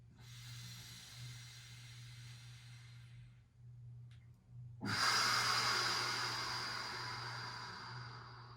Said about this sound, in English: Breathing really deep now.